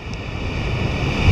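Stormy ocean surf rolls in at Porthleven, a steady broad roar of breaking waves mixed with gusty wind, loud and continuous with no voices.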